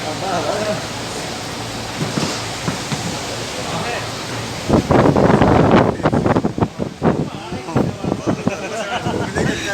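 Strong wind buffets the microphone outdoors at a KSRTC transport expo, a steady rushing roar that swells into louder gusts midway while people talk nearby.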